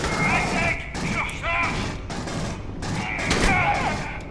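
Heavy shotgun blasts and combat noise in the sci-fi shooter Aliens: Colonial Marines, a few booming shots spread across a busy battle soundscape, with people talking over the action.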